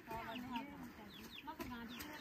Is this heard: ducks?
yes